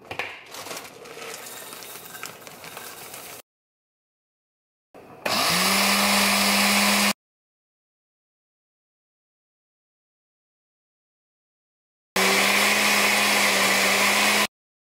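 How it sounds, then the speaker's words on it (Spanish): A kitchen blender grinds dry oats in two loud, steady bursts of whirring motor noise, separated by silence, with no talking. "Voy a licuar la avena."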